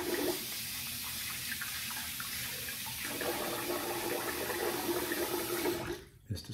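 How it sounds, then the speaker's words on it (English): Water running from a tap while the face is rinsed after a wet shave, a steady hissing splash that flows continuously, faint and close, then stops abruptly near the end. "Let's rinse the face."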